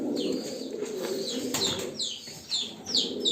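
Hungarian high-flying pigeons coo and flutter nearby, with soft wing flaps and faint chirps over a low background murmur.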